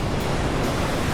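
Atlantic Ocean surf at Rockaway Beach roars as a steady, dense wash of breaking waves, loud and close, with wind noise blended in and no voices.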